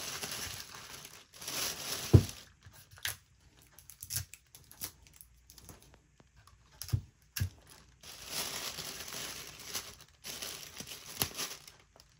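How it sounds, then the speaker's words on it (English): Tissue paper crinkles and rustles up close in repeated bursts as it is wrapped around a cup, with brief pauses and soft taps between handlings. "Put the tissue paper around it."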